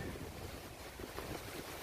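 Sea waves wash against the shore behind a person standing at the water's edge, a faint, continuous broadband roar with wind buffeting the microphone and no voices.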